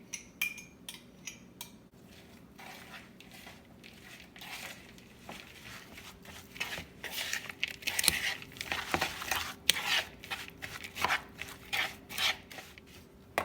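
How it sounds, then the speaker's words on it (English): Scraping and rasping of a utensil stirring dry, crumbly keto pie-crust ingredients in a bowl, in quick irregular strokes that grow busier toward the end. "We're going to give that a good mix"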